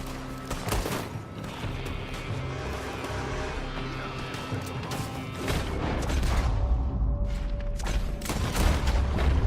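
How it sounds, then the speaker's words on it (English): Gunfire comes from a building in a Red Dead Redemption 2 town shootout, with a dense fusillade of sharp rifle and pistol cracks, some near and some distant, running nearly nonstop, and a low rumble building toward the end. "They're shooting from that building."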